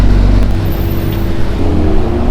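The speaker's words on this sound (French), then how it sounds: "Voilà, il est en train de repartir avec un nouveau passager" A Porsche 992 GT3 pulls away at the Nürburgring, its engine note loud and close with a strong low rumble that holds steady as the car drives off.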